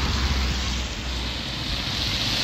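Steady monsoon rain pours down on the road to Mahabaleshwar near Panchgani, a dense, even hiss of downpour that holds constant throughout with no voices.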